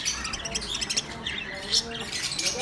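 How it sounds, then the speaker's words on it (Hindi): A young pahari kara (Alexandrine-type) parrot chick squawks and chirps repeatedly at a bird shop on Swabi Road in Swabi, KPK, with other birds calling around it and people talking nearby. "ये रा पैरट का बच्चा है"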